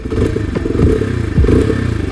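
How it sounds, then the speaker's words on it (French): A Peugeot PM-01 motorcycle engine rumbles steadily up close, its low exhaust note pulsing with a couple of brief surges and some mechanical clatter. "on entend le moteur, comment il se comporte, on entend l'échappement"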